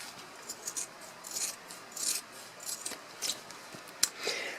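Scissors snipping through fabric around embroidery stitching, a run of close, crisp cuts in short irregular bursts with soft rasping slides between them.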